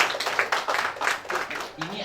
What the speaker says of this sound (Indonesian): Tepuk tangan buat PIRA.